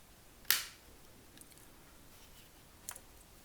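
A sharp plastic click as the battery cover snaps into place on a Renault Clio remote key, one loud snap followed by a fainter click, close up in a quiet room.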